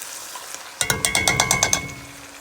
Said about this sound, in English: Let's mix this together nicely.